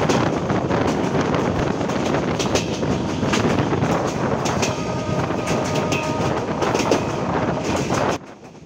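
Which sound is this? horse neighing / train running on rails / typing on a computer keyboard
train running on rails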